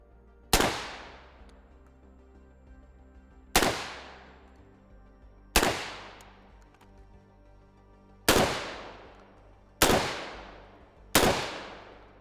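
Gen-12 shotgun firing slugs at a range, six loud, sharp reports spaced a second or two apart, each decaying with a ringing echo tail.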